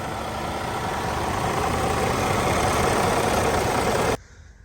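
A Cummins X15 big rig diesel engine running at a steady idle, a loud continuous rumble heard up close that cuts off abruptly near the end.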